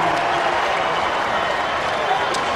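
A Purdue Boilermaker basketball crowd cheering at a road game against Rutgers, a steady roar of applause and shouting filling the arena, with a commentator talking over it.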